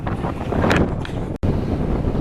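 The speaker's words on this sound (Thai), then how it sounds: "ก็ลมแรงมากเลย" Strong wind buffets the microphone on a coastal headland during an outdoor running event, a loud continuous roar with gusty surges and one brief dropout near the middle.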